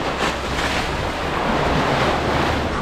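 Waves wash onto small Tyrico Beach on Trinidad's North Coast, a steady rushing surf mixed with wind buffeting the microphone, continuous and fairly loud with no talking.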